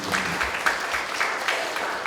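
A church congregation applauds in worship, dense steady clapping from many hands filling the room at a moderate level throughout.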